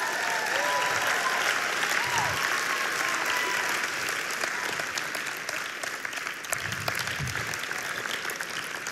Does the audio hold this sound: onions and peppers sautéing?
no